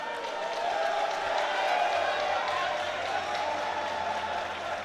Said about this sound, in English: Got a very, very loud crowd here for this fight